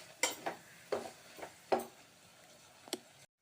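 A spoon stirs mashed carrot, bean, pea and potato sabji in a pot, giving a handful of separate wet scraping knocks against the metal at an uneven pace, close and fairly soft, with no talking.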